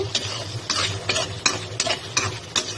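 Bengali prawn masala frying in oil with rhythmic stirring strokes scraping the pan roughly every half second, loud and close over a steady sizzle, no voices.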